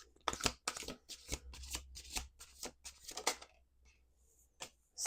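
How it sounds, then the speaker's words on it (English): A deck of tarot cards gets a final hand shuffle, a string of close, crisp riffles that thin out toward the end, heard alone. "Last shuffle."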